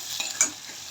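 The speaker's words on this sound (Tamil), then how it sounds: "வெங்காயத்தை கிண்டணும்." Onions frying in a pan are stirred with a spoon, giving a soft sizzle with a couple of quick scraping strokes up close; no voices are heard.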